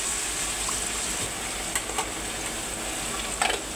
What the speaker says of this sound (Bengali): রসুনগুলো একটু ভাজা ভাজা করে নেব।